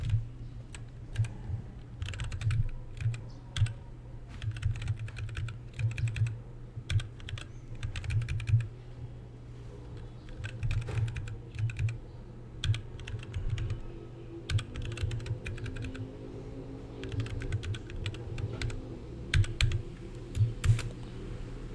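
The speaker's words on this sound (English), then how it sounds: "I'm having a hard time typing right now." Rapid clattering keystrokes on a computer keyboard come in irregular bursts and short pauses throughout, close and clear over a low steady hum, with no talking.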